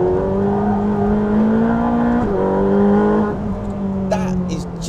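A Ferrari 458 Speciale takes a fast third-gear corner on a race track, its engine holding a loud, strained high-pitched wail that steps up briefly midway before the note eases and drops off near the end.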